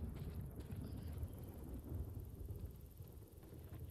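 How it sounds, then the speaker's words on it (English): Distant rumbling thunder from a storm rolling in within Days Gone, a low, steady roar with faint wind, heard alone and fairly quiet. "Seems like there's a storm coming."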